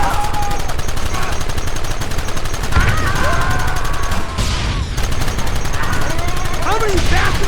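Rapid gunfire in the video game Red Dead Redemption, dense loud volleys of shots crackling throughout with shouted voices mixed in.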